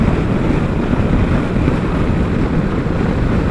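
Steady, loud wind noise roars against the microphone while riding a Kawasaki Vulcan S motorcycle fitted with a Puig windscreen, a constant broadband rush with no pauses and no talking.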